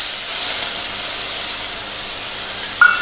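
Tomatoes and chillies fry in hot oil with a steady, loud close-up hiss that stays even throughout, and a couple of faint utensil clinks come near the end.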